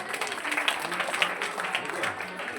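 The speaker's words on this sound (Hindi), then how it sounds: "हिमांशु के लिए जोरदार तालियां।" Applause from children and guests at an Independence Day program at an upper primary school, a steady patter of clapping mixed with crowd murmur and faint voices underneath.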